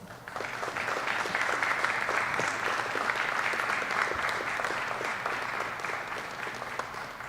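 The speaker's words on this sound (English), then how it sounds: "give your friends and family a round of applause" Graduating class at a U.S. Army flight school ceremony claps for friends and family, a full, sustained burst of applause from many people in a hall, even and unbroken throughout.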